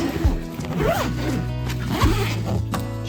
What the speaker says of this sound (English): Let's make sure that it zips.